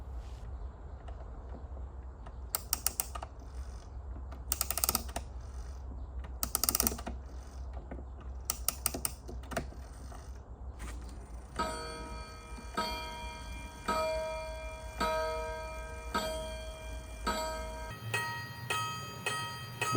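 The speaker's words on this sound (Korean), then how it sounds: "뭐가 잘못됐는지 계속해서 멈추지 않고 종이 울립니다." Old wall pendulum clock, about fifty years old, chiming a bell again and again without stopping, each strike ringing out clearly over a steady mechanical ticking, with a faster run of repeated bell strokes toward the end.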